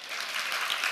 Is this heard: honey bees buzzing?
no